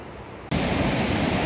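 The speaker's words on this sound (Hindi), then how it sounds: "नदी की आवाज़ यहीं तक आ रही है" The Mahakali river in Nepal flows at a distance on a foggy early morning: a steady, dense broadband rush with no voices, quieter at first and then jumping abruptly to a louder, constant roar for the rest.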